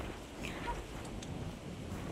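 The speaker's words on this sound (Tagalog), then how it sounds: "lakas ng hangin" Strong wind on a Hong Kong mountain hiking trail buffets the microphone in a steady low rumble, with faint gusting rushes and a distant watery wash underneath.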